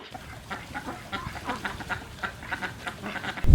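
Ducks on a farm where they are raised without water give a scattering of faint, overlapping quacks over a quiet background.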